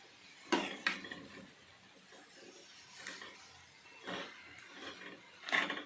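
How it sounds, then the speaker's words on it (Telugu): A pot of eggplant and raw prawn curry is stirred and then covered with a lid. A few sharp metallic clanks and scrapes of a utensil on the pot sound close by, separated by quieter gaps. "వంకాయలు వేసుకున్నాం కదా, మనం ఒక్కసారి కలిపేసుకొని మూత పెట్టుకుందాం"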